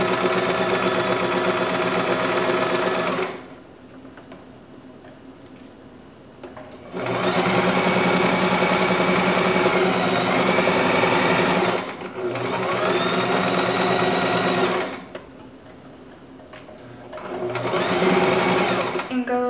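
A sewing machine stitches a pillow seam in three long, steady runs separated by quiet pauses, the motor whirring loud and close, with a voice speaking during the gaps.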